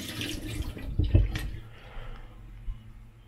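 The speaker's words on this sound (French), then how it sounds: "Je vais remettre un petit peu d'eau froide." Cold tap water splashing briefly into a container for pizza dough, a short close pour that fades quickly into quiet.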